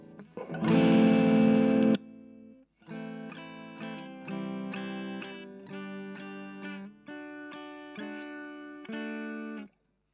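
An electric guitar through a Tube Screamer-style overdrive pedal, overdriven and slightly gritty, plays a loud strummed chord, then a series of sustained chords and notes, each ringing before stopping.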